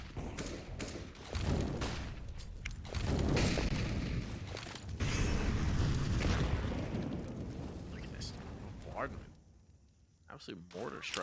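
Heavy grenade blasts and booming detonations in Counter-Strike on the Ancient map during an ESL Challenger League match, several loud thuds rolling one after another while a caster talks over them.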